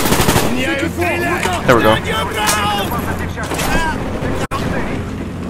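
Gunfire in the 2010 video game Call of Duty: Black Ops, with loud, dense automatic bursts and booms running continuously under in-game shouting and a player's brief remark.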